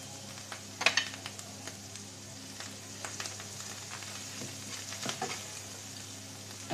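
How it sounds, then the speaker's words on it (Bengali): Ground turmeric, chili and other spices fry in oil for a mustard hilsa curry, a steady close sizzle broken by a few scraping stirs and light utensil knocks, with no talk. "আমি প্রত্যেকটা মশলা দেব আর একটু একটু করে ভেজে নেব"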